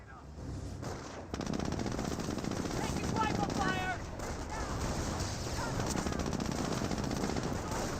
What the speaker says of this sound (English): The 30 cal can be loaded for piercing rounds to engage these forces.